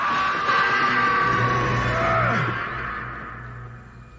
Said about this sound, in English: just cut to a distant scream